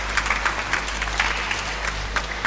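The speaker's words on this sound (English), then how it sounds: "a round of applause for him." A church audience gives a brief round of applause, sparse and patchy claps at moderate volume in a short burst.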